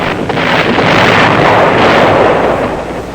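Explosions from airstrikes and B-52 bombing around the base perimeter at Khe Sanh, a loud, rumbling, blast-like roar sustained for about three seconds with heavy wind-like noise, no voices.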